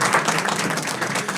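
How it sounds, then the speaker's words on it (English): Audience applause at a county St. Patrick's Day Irish flag ceremony: a brief burst of dense, steady clapping with no voices over it. "Let's give them a round of applause that are here"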